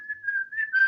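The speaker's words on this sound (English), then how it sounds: "I can hear you whistling." A person whistling a single sustained, steady tone for under a second, fairly close and clear, with no talk over it.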